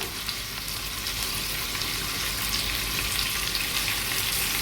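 Chopped green chillies fry in a hot mustard-seed and cumin tempering. A steady, close crackling sizzle runs throughout with no talking.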